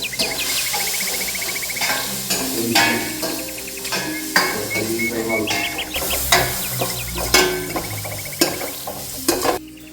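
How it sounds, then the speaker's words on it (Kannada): Masala fries in a pan, sizzling steadily while a utensil repeatedly scrapes and clinks against the metal in an uneven rhythm, close and fairly loud throughout. "ಮಸಾಲೆ ಸರಿ ಫ್ರೈ ಮಾಡ್ಕೊ"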